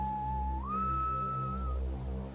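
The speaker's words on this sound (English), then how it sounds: "then I heard it, a strange whistling call" A strange whistling call rises in pitch partway through and holds steady before fading, heard alone over a low rumbling background like wind or ocean.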